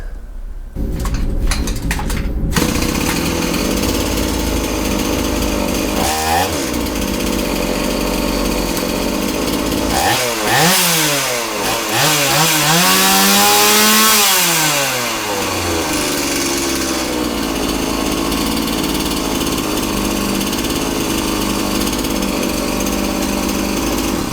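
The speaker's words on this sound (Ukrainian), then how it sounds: "коли я запустив бензопилу, а зараз тут 2800 обертів на холостих" STIHL MS 180 chainsaw with a chain that fails to stop, running loud and close at a steady idle, revved up and down in rising and falling bursts partway through before settling back to idle.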